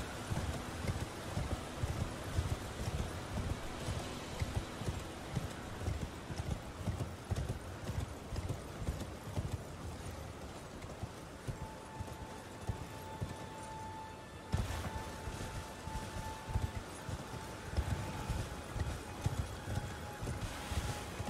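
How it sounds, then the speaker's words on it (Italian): Horse hooves clip-clop in a steady galloping rhythm throughout Elden Ring gameplay, loud and close against wind and ambient game noise, with a brief break partway through and an occasional whinny. "Per fortuna che ci hanno dato il cavallo"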